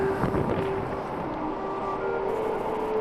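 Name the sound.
wind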